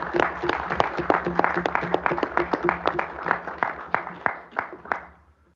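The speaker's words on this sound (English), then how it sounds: "I think they deserve a round of applause too." At an annual council meeting, a modest group claps for the new Youth Mayor and Deputy Youth Mayor, distinct individual claps in a brisk, uneven patter that slows and fades out near the end.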